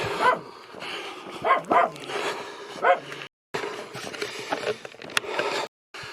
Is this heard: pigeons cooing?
no